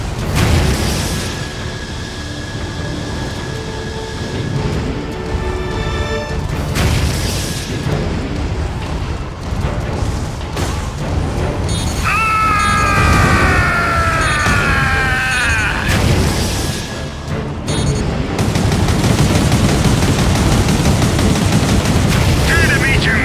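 Artillery booms and rapid gunfire fill a battle in the PS3 game Gundam Crossfire, a loud continuous barrage with blasts, whining mechanical tones and game voices over the din.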